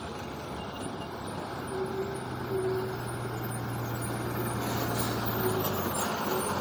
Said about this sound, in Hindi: सेकंड चढ़ान पे बिल्कुल ये गाड़ी रुक गई है। 3718 BS4 Ashok Leyland UP passing.